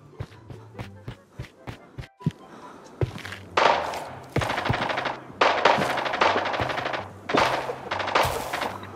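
Gunfire crackles in a mobile shooter game: a few sharp single shots first, then loud sustained automatic bursts in several close, repeated volleys.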